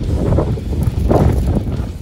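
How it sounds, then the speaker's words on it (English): Strong wind roars steadily across the microphone outdoors on a cold afternoon in Hell, Michigan, a loud buffeting rumble with gusty swells and no speech. "it's too cold and it's hella windy"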